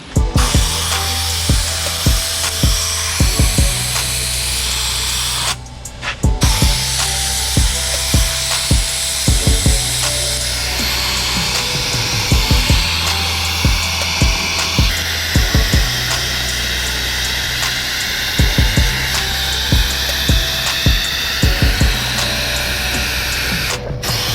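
A 30-year-old Ford F150 engine is blasted with a loud, continuous hissing stream of air and grit, broken by a brief pause and rapid bursts of rattling knocks throughout, close and harsh.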